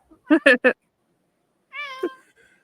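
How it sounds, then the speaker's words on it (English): A house cat meows nearby: three short chirpy meows, then after a pause one longer, drawn-out meow, with no talking. "my cat agrees, obviously. I hear him in the background"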